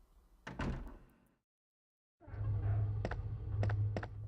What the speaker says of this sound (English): I'm gonna leave this room and go out the door I didn't go through the first time.